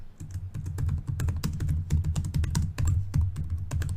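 Rapid, steady keystrokes on a computer keyboard as a broadcast message is typed, a dense run of close clicks filling the whole stretch with no talk.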